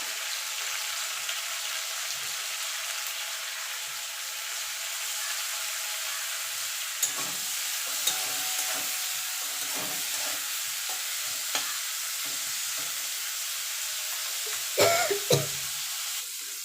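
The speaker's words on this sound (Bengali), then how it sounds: "দেখুন বন্ধু উচ্ছেটা ভাজা ভাজা হয়ে গেছে" Sliced bitter gourd seasoned with salt and turmeric fries in oil in a pan, giving a steady, even sizzle. Occasional spatula scrapes and taps break through, with a few louder stirring knocks near the end.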